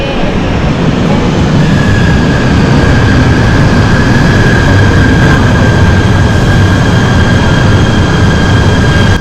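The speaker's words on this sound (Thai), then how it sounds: "นี่ครับรถไฟเรามาแล้ว" A loud, steady rumble of a train rolling in, with a faint high wheel squeal running through the middle.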